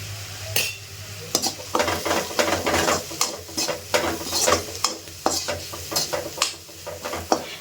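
Chili powder and masala powder fry in a pan while a utensil scrapes and clacks against the metal in quick irregular strokes over a constant close sizzle; no speech.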